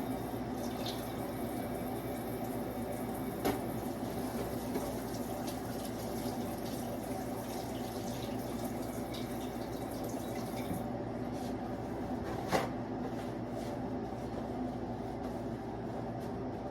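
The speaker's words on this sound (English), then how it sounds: "So I'm always doing hot water and sterilizing the bowl whenever I'm about to have cereal." Hot water runs from a tap into a bowl in a steady, continuous splashing stream that lasts the whole time, close and moderately loud, with a couple of faint clinks.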